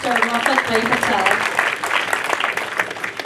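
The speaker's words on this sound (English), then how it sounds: "let's give a round of applause for Mr. Blvd Patel." An audience at a Hindu cremation fundraising program applauds steadily with a dense, sustained patter, while a voice talks over the clapping.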